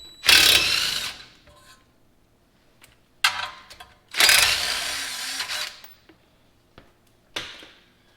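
A low-powered impact wrench loosening corroded suspension bolts on a third-generation Toyota 4Runner, in three loud, rattling bursts of about a second each with quiet pauses between them, and a brief final burst at the end.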